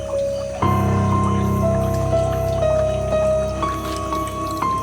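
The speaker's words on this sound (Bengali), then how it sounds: "হট করে যেন কলটা চললো" A tap is turned on and water runs steadily into a container, with drips and filling sounds and a shifting gurgle, close by. There is no talk.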